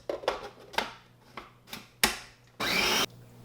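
An electric mixer whirs in short bursts, then runs steadily for about half a second, quickly blending baking soda and baking powder into a brownie mixture. The sound is close and moderately loud, with no voices.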